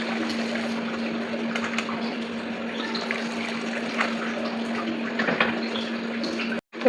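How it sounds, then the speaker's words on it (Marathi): Spice-cooked water for a biryani is strained, pouring in a steady liquid splash and trickle that runs continuously at close range and stops abruptly at the end, with a faint hum beneath and no talking. "मसाले शिजवले होते ना ते पाणी मी गाळून घेणार आहे"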